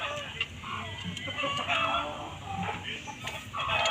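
Hens clucking in a farm coop while laying eggs, with steady overlapping fowl calls and a rooster-like call among them, close by over a busy background.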